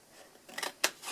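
A pair of scissors cuts paper along a scored fold line during a paper-craft session: a few quiet, crisp snips close by, with soft rustling between them.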